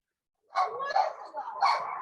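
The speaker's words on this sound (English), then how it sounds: "I'm hearing dogs." Dogs in a home bark in a short series after a moment of silence. The barks are moderately loud, fairly close and rough-edged.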